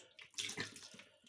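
Infused vodka, steeped with fruit and a little sugar, poured through a straining bag: a short splashing, trickling pour of liquid, close and moderately loud, with no talk.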